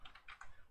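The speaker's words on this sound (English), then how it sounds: "So you go to Google or whatever platform you use and you type in" Quick, faint keystrokes on a computer keyboard, a short run of soft clicks in close succession.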